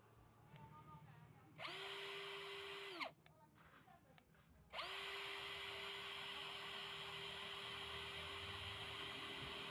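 A Hasston 16.8 V brushless cordless drill runs at speed gear 1 with a steady, high motor whine. It makes one short run, then stops briefly and starts again for a longer continuous run, close and loud.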